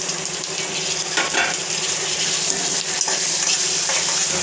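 Chopped onions, tomato and green chillies sizzle steadily in a hot pan for a chicken gravy, with a few soft scrapes of a spoon stirring them through; continuous, close and fairly loud, with no talking.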